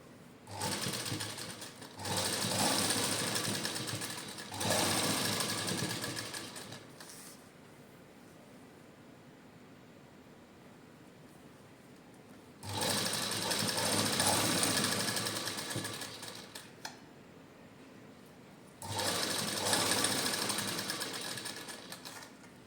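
A sewing machine stitches lace onto a suit in three loud, steady bursts of rapid whirring, separated by quieter pauses with no talking.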